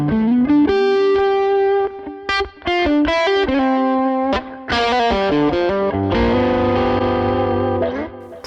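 An electric guitar played through a Fractal FM9 amp modeler with a distorted amp tone: picked single notes and short melodic runs, then sustained chords ringing out toward the end, close and loud with no talking.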